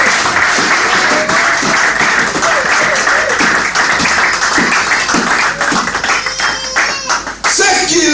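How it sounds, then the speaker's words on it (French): A church congregation applauds and cheers, praising the Lord, with dense rapid clapping and shouting voices that stay loud throughout, close and enveloping. "Est-ce qu'on peut acclamer le Seigneur? Est-ce qu'on peut acclamer plus que ça?"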